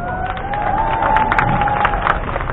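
A crowd claps steadily, dense and fairly loud, with a faint tonal hum running under the applause.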